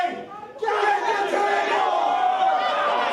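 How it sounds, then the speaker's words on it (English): A pro wrestling crowd at an Alpine show roars and chants loudly behind the wrestler Hardcore Hick, swelling after a quieter start into sustained cheering with mixed voices. "Hardcore Hick getting the Alpine crowd behind him."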